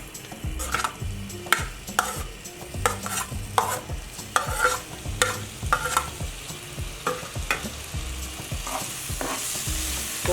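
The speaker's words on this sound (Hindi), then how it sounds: "इनको ऐसे फैला लें, सारे पैन को ऑयल कर लें और ये बनाना इसमें डाल दें।" Banana slices frying in an oiled pan with ghee, butter or cooking oil over a medium flame, a steady close sizzle broken by repeated scraping stirs of a utensil against the pan.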